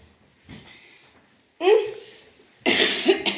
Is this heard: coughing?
yes